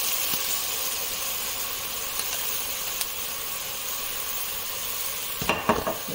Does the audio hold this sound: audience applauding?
no